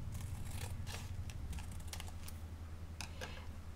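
Scissors snipping open a tea packet in a quiet ASMR tea tasting, a few soft, crisp cuts and crinkles heard close and faint against near silence.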